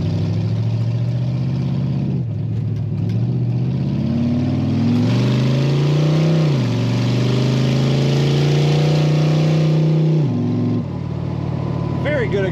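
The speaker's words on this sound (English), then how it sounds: "Good acceleration. Such a light car with all this power. And of course, you can hear that awesome exhaust sound." A 1933 Plymouth five-window coupe street rod accelerates through several gears, its engine and exhaust rising in pitch, dropping at each shift and climbing again, heard steadily and close from inside the car.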